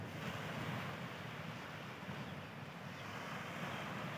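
Sea waves at Patar Beach in Bolinao, Pangasinan, a steady broad wash of surf with wind buffeting the microphone, continuous and fairly close, with no voices.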